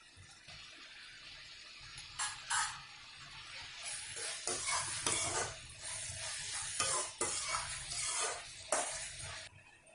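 Chopped tomatoes frying and being stirred in a pan for vegetable semiya biryani, a steady sizzle with intermittent scraping stirs and clinks of utensil against the pan, close and continuous with no talking.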